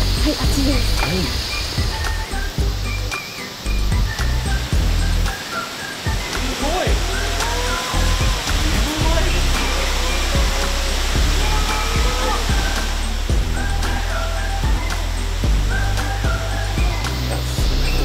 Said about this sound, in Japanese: 滝かな、なんだろう、この音ドドドドって聞こえますね